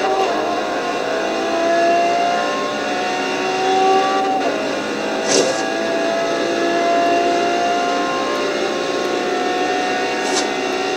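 A Lamborghini Veneno engine roars steadily at high revs in the video game Forza Horizon 2, with a whining, sustained drone and a couple of brief sharp bursts, loud and close.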